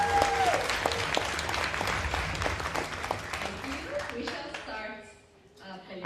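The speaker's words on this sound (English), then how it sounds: "final applause to the players" Applause for chess players at a Global Chess League match, a crowd clapping steadily with speech over it, thinning out toward the end as voices and music continue.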